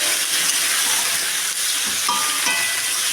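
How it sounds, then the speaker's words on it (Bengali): Broccoli fries in hot oil, a loud close sizzle with a thick continuous hiss and occasional stirring scrapes and a brief metallic squeak, no voices. "এখন এই তেলে আমি ব্রোকলিটাকে ভেজে নেব"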